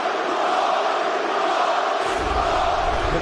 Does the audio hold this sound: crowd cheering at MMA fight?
yes